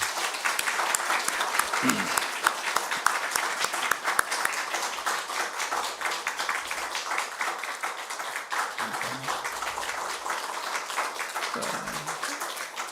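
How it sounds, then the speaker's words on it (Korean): A church congregation applauds during a pastor's installation ceremony, a steady, even roar of many hands clapping, heard at a moderate distance and sustained without a break. "우리 박수 한번 부르시죠."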